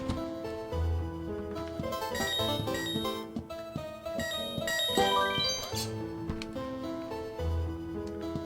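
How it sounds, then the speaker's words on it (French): A building intercom ringtone in the video game Horace plays as a bright, layered chiming melody of clear, repeating bell-like notes, close and moderately loud, with no one speaking. "C'est la sonnerie d'interphone de l'immeuble"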